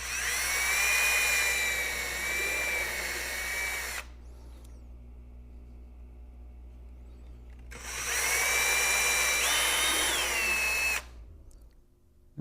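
A small power drill with a 1/16-inch bit whines steadily for about four seconds, pauses, then runs again for another three-second burst, high-pitched and close, drilling holes in a cracked vessel for copper wire repair.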